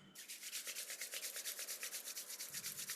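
Two palms rubbed briskly together near the end of a pranayama breathing session, making a steady, rhythmic swishing friction with about twenty quick strokes, close and fairly soft, with no talking.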